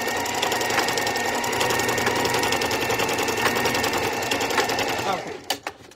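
A sewing machine with a walking foot back-stitching elastic, running as a steady rapid mechanical whir for about five seconds before stopping with a few short final bursts, loud and close.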